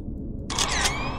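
Camera shutter firing in a video game bathroom scene, a sudden bright mechanical click-whir that cuts in after a low background hum and rings briefly before fading.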